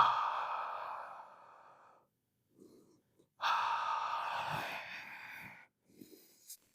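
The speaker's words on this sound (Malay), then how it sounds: "hembuskan nafas sambil kira sampai 3 dan tarik nafas pada kiraan 4" Slow breathing exercise with long exhales, with two long audible breaths close to the microphone, each a sustained airy sigh lasting a couple of seconds, separated by short quiet gaps and faint breathy sounds.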